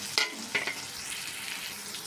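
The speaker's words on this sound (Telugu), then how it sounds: "ఈ విధంగా కాసేపు వేగనీయాలండి. బాగా ఉడుకుకోవాలి." Sliced onions, tomatoes and green chillies frying in a pan for a ridge gourd and mutton curry, a soft steady sizzle with a couple of sharp spatula taps early on.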